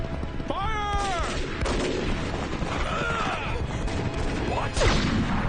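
A volley of gunfire in a historical Japanese anime set in Kyoto erupts as sharp booming blasts over a dense, noisy battle mix, with voices shouting above it.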